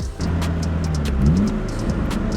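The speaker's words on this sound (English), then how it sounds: "the rev match downshift" A Ford Falcon XR6 Turbo ute engine blips during a rev-match downshift, a short burst of rising revs that climbs and drops back within about two seconds, close and fairly loud over idle rumble and light clicks.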